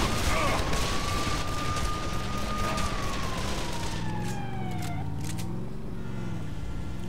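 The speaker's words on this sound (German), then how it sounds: "Schalten Sie die Sirene." A police car siren in the video game Call of Juarez The Cartel wails in a long rising and falling tone over a loud engine and road rumble, fading partway through as other game sounds continue.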